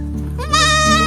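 A single short bleat from a small goat rises abruptly over a low steady hum, close to the microphone.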